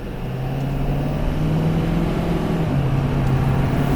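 A tuned, emissions-on Ford 6.7 Powerstroke diesel pickup with about 200 added horsepower cruises on the road, heard from inside the cab as a loud, steady engine drone and road rumble with no talking.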